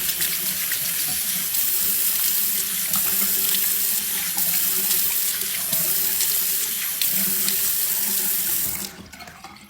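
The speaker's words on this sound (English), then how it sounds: "I'm going to turn the water on and rinse once" Tap water runs steadily into a sink for a face rinse after an oil cleanser, a continuous close splashing hiss that carries on evenly and cuts off abruptly near the end.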